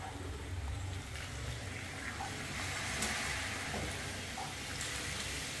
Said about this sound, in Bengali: এবার দিয়ে দেবে মধ্যে গরম জল।